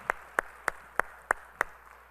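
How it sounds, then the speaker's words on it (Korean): A church congregation claps together in unison, producing six sharp, evenly spaced claps in a steady rhythm over a quiet room hum. "우리 찬양을 받아주실 주님께 영광의 박수 올려드리겠습니다"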